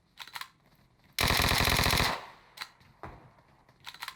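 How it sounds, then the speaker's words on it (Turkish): A single sustained burst of automatic gunfire in PUBG Mobile, enemy fire lasting nearly a second, loud and sharp amid scattered quieter shots and game sounds before and after. "Arkamdan da sıkıyorlar."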